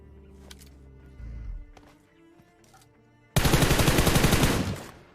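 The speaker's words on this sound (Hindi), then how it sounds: "मैंने डासिया वाले पे फायर किया" Gunfire in a battle royale video game arrives as a few scattered distant shots and then a sustained close, loud burst of rapid automatic fire, with no voices.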